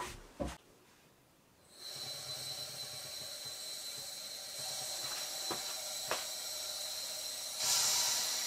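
Compressed air from a regulated compressor hisses steadily into a pressure pot charged to 4 atmospheres. A click comes first, then a continuous even hiss that stays loud and unbroken, with a few faint knocks along the way.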